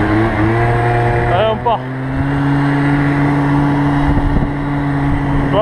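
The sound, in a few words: MBK Booster 50 moped engine revving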